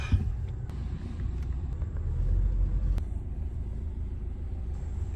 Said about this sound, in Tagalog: Traffic na naman tayo